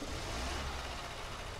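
A monster truck engine in a game hums and revs with a dense, steady mid-range roar that stays even from start to finish, with no talk over it.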